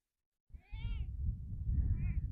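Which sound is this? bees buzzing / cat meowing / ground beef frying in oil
cat meowing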